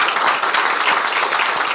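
Applause at a Korean political party meeting, offered in support of the party leader after an emotional moment, a dense wash of clapping that holds steady for the whole stretch.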